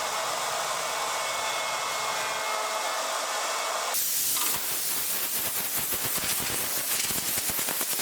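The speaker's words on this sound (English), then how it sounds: "I sprayed the black primer right there in the shop." Black primer sprayed in a workshop onto a large routered driveway sign, a loud continuous hiss that shifts partway through into a rougher, pulsing spray, with no talking.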